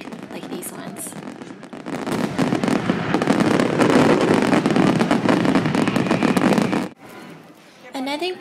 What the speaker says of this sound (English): throughout the week they had the regular fireworks that we're used to, like these ones